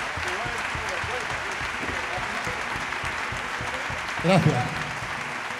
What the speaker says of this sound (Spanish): os pido por favor un fuerte aplauso para esta pedazo de banda que hoy lo está rompiendo